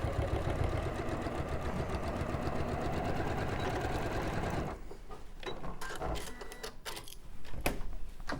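A sewing machine stitching a seam on a quilting project runs steadily and loudly for several seconds, then stops, leaving quieter scattered clicks and handling noises.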